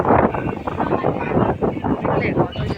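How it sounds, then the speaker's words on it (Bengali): Strong wind blows hard and gusty into the microphone outdoors near a rented building, a loud, rumbling buffeting that rises and falls without a break. "দেখলে কত জোরে বাতাস হচ্ছে,"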